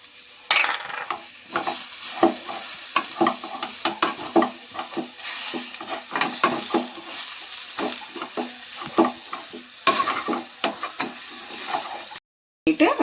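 Dry-roasting spices and grated coconut in a pan, stirred steadily with repeated scraping strokes and soft sizzling, close and alone, ending in a brief silence.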